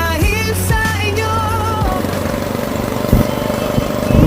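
A motorcycle engine running close by at an idle, a steady, rough mid-pitched putter with a couple of brief revs near the start, heard alone throughout.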